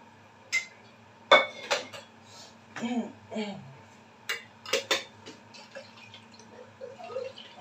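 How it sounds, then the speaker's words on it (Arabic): A metal spoon clinks and scrapes against a cooking pot in a series of sharp, separate knocks while tomato paste goes in for an okra and oxtail tagine, with quieter handling sounds between the strikes. "نبدأ نحط معلقتين صلصة كده محترمين"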